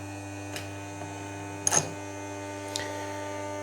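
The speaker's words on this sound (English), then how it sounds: "we'll turn the machine on and see what it does" An AGS custom induction annealer, version 3.2, runs with a .223 brass case loaded, giving a steady, quiet electrical hum broken by a few faint clicks.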